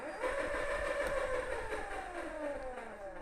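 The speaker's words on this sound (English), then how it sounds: "The motor just spins, but it's not spinning the chain." An electric motor on a Tesla Cyberquad spins freely without driving the chain, giving a steady mid-pitched whine with a faint rising and falling hum. It runs close and continuous, with no talk over it.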